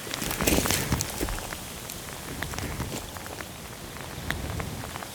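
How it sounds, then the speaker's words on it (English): Hail and heavy rain falling in the mountains of Eryri National Park, a close, dense patter of sharp ticking impacts over a steady wet hiss, strongest at the start and continuing without speech. "The hail's coming in now."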